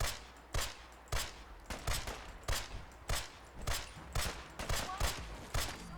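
Repeated gunfire from the Fallout 4 video game, evenly spaced loud shots roughly every half second, each a sharp crack with a short tail, heard over a faint background.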